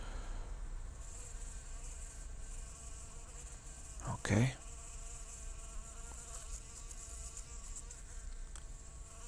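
A very active bee buzzes steadily and close throughout, a continuous insect drone with a brief louder burst midway; a person says one short word.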